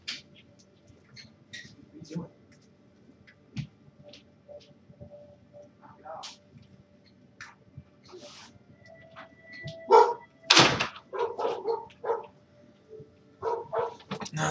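Several dogs barking at a mail delivery, scattered short barks and yips through a quiet room, with a loud burst of barking toward the middle, then repeated barks near the end.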